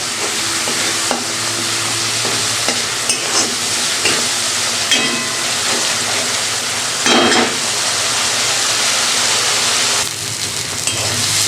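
Spice masala stir-fried in hot oil in a pan, steady loud sizzling and hissing with intermittent scraping stir strokes, close and continuous with no talk.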